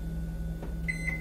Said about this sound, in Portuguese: vou levar essa abóbora no micro-ondas por 4 minutos